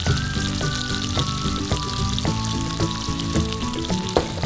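Chopped onions frying in a pot with browned lamb for a cinnamon lamb stew, a steady hiss beneath a continuous tonal melody.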